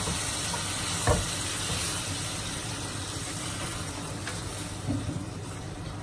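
Grated tomato simmering with browned onions in a pan gives a soft continuous sizzle and bubbling, with a couple of faint clinks from stirring; no voices.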